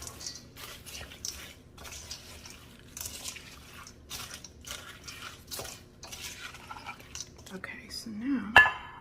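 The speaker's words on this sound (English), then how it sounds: "Now I'm gonna go in with the French fried onions." French fried onions tumbling into a green bean casserole dish, heard as a run of scattered crisp rustles and light clinks against the dish, fairly close and quiet, with a brief clatter near the end.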